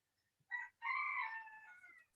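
A pet chicken crows once, a short clipped note followed by a longer drawn-out call that fades, heard fairly near and alone against quiet.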